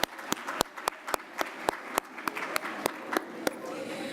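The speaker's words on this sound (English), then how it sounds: "Let's give them a big round of applause for feeding us lunch." A sparse scattering of claps rings out from a healthcare conference audience after lunch, with individual hand claps spaced out, some near and loud, the rest faint.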